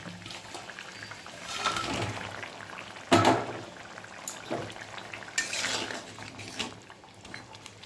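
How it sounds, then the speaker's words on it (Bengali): Pieces of fried rohu fish go into boiling coriander-and-chili gravy in a pan, giving a soft steady sizzle and bubbling with scattered clinks and scrapes of a utensil. No one speaks. "ঝোলটা ফুটে উঠেছে, ভেজে রাখা মাছগুলো দিয়ে দেবো"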